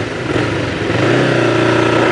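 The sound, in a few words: motorcycle riding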